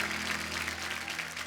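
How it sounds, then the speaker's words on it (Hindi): Studio audience applause welcoming an actress on The Kapil Sharma Show, a dense, continuous wash of clapping over a low steady hum. "आप सबकी जोरदार तालियों के बीच में स्वागत करना चाहूंगा श्रेया धनवंतरी"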